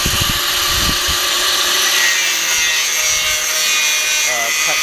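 Someone cuts down a rusty part on a 1976 Land Rover Series III with a harsh, continuous grinding rasp and a high metallic whine, close and loud, with brief low knocks early on.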